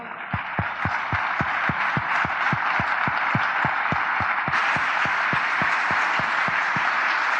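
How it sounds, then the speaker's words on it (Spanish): Church congregation claps in unison to a steady, fast beat, about three claps per second, loud and close, with a bright crowd wash that swells partway through. "si va a dar un aplauso al Señor, déselo bien."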